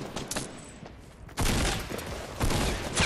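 Gunfire in the video game Fortnite: a quieter stretch, then loud, sharp bursts of rapid shots arriving in sudden blasts near the end.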